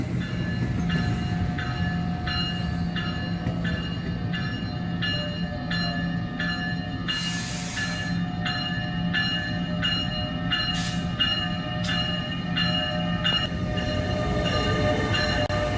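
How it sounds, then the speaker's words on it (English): An ALP-46 electric locomotive train departs a station close by, loud and continuous, with rhythmic clacking of wheels over rail joints and occasional high screeches. "another ALP 46 departs the station."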